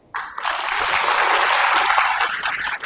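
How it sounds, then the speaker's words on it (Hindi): A Catholic church congregation breaks into applause, a sudden, dense round of clapping that holds steady at close range for nearly three seconds. "उन सारे लोगों के लिए ताली दो जो उठे।"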